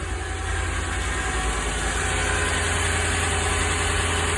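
A Mercedes C55 engine idles steadily and close by, a continuous low rumble with an even pulsing beat and a faint high whine riding over it, with no talk.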